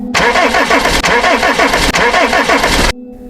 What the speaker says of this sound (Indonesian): Ia mencoba menstarter ulang mesin.